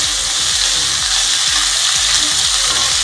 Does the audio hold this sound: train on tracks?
no